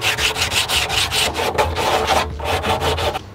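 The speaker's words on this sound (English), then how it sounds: "Some heavy grit sandpaper, and then just take off some of the shavings here." Heavy-grit sandpaper rubs across a blue 55-gallon plastic barrel in quick, steady back-and-forth strokes, a close, loud, scratchy rasping that runs continuously with no talking.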